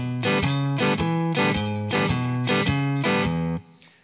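Electric guitar on the neck pickup plays the shuffling rhythm figure, with steady repeated chord stabs and a bouncing bass line, loud and close, ending with a brief decay.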